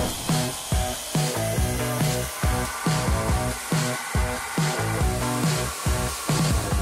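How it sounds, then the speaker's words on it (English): Bench grinder shaping a knife handle, a loud continuous abrasive whine with rhythmic surges as the workpiece is pressed and pulled back against the wheel, close and steady with no talking. "cut large bits out with that, and then we'll clean it up on the grinder"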